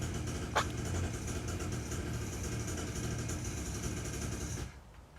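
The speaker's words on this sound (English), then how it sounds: "It is my neighbour trying and failing to adjust a two-stroke engine to run consistently." A two-stroke engine that a neighbour is trying to adjust, running unevenly at a distance with a low, faint drone, and a short sharp noise near the start before it cuts off.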